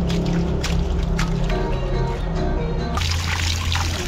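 Pig intestines being rinsed under water for batchoy, a steady pouring trickle with soft wet squishing of the casings, continuous and close, with a brief shift in the flow near the end.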